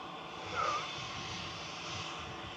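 Airbus A320-200neo airliner at Manchester Airport, a steady distant jet engine roar with a faint rising whine, continuous and moderately quiet over the short span.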